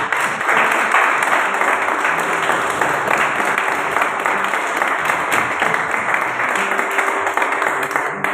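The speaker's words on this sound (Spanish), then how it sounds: "Denle un fuerte aplauso al Señor." A church congregation applauds steadily and loudly, a dense continuous wash of clapping that fills the whole stretch without pause.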